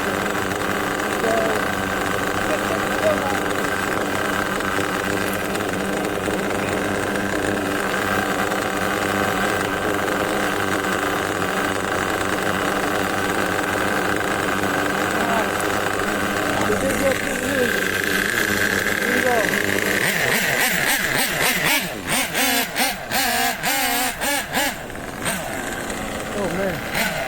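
The nitro engine of an OFNA Titan Twin RC car with a Track Stars turbo runs loud and close, a buzzing high-revving drone that grows rougher and stutters toward the end while people talk over it.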